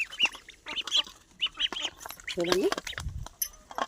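Hungry ducks quack loudly and repeatedly at feeding time as rice is put out on plates, with someone talking over the busy, close calls.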